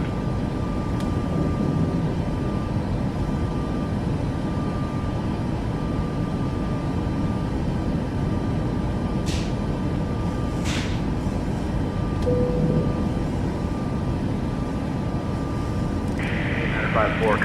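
Airliner taking off in Microsoft Flight Simulator 2024, a steady loud engine roar holding throughout with faint background voices and a brief higher tone near the end.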